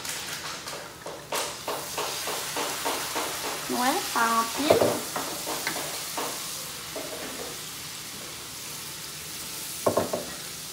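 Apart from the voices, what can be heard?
wine added to frying lamb chops, sizzling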